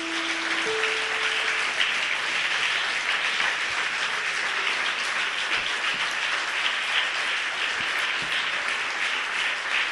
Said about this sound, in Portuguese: Podem aplaudir a Jesus